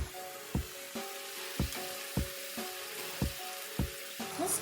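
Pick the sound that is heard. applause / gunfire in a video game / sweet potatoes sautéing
sweet potatoes sautéing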